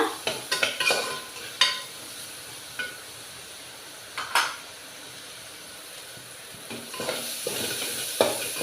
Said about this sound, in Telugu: ఉల్లిపాయలు బాగా వేగినంత వరకు వేయించుకోవాలన్నమాట